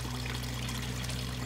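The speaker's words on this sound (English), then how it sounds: "So we're gonna go ahead and add some water now." Water pours steadily through a dechlorinator filter into a backyard aquaponics system, a continuous close rushing trickle with no break.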